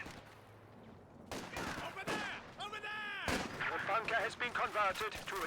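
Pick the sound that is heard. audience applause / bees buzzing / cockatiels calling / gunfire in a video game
gunfire in a video game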